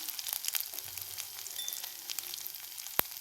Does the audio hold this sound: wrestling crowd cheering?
no